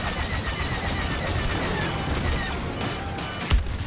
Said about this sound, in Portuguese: É muito tiro de todo lado.